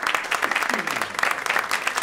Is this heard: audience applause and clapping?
yes